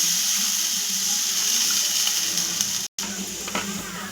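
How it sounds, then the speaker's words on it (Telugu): Water is poured into a pan of sugar to make syrup: a steady, close splashing pour that runs for several seconds, breaks off briefly, then resumes. "షుగర్ వేసుకున్న తర్వాత కొన్ని అయితే వాటర్ పోయాలి."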